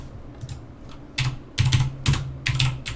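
Close keystrokes clatter on a computer keyboard as a command is typed in a terminal, a few short bursts of clicks separated by brief pauses, no talking.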